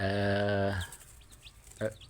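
A drawn-out squawk from a young laying-hen chick up close, then quiet clucks and a short cackle near the end.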